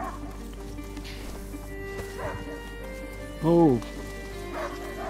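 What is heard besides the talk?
hunting dog barking in the video game A Plague Tale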